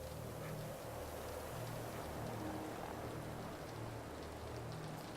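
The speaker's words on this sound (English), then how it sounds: "So you can chill, enjoy the rain sounds, all of that." Steady rain falls in a continuous soft hiss with no breaks, faint and even throughout, with no voices over it.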